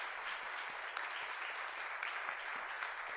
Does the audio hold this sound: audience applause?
yes